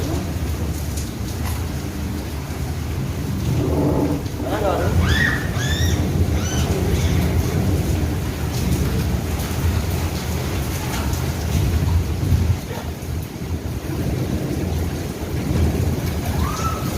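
Steady heavy rain pours down outside a home, with low rumbles of thunder rolling underneath, a continuous wash of sound with no talking.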